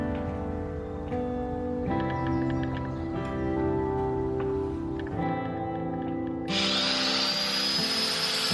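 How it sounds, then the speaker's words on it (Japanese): A disc grinder fitted with a multi-tool kit cuts wooden ceiling hangers during the renovation of a 50-year-old house, giving a steady buzzing whine that shifts pitch and grows harsher and louder near the end. "途中、吊り木が邪魔なところはマルチツールでカットしていきます。"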